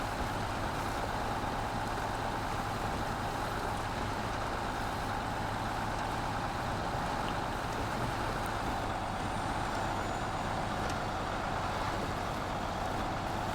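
A truck engine in the snowy off-road game SnowRunner drones steadily as it labours up a slope hauling a trailer, a constant low rumble at moderate level with no speech.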